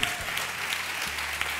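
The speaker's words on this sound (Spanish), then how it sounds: "¡Un aplauso ahí!" Short burst of audience applause at a live cooking show in Córdoba, dense steady clapping with a low hum underneath.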